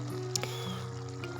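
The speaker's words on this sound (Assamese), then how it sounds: "এতিয়া মই ভাজি থোৱা মাছখিনি ইয়াতে দি দিম।" Fried fish pieces are added to a pot of cooking bottle gourd curry, giving a soft steady sizzle with a couple of brief splashy clinks near the start and no talking.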